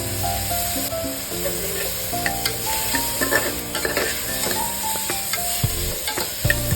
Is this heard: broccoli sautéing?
yes